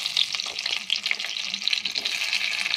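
Onions hit oil already used for frying pakoras and fry with a steady, fairly loud sizzle, punctuated by light scraping stirs, no voices over it.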